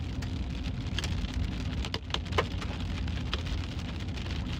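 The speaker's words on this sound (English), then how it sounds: "The hail's covering the road." Hail pours down during a severe storm, covering a road, a dense, steady hiss of pelting ice with scattered sharper impacts, loud and close throughout, with no voices.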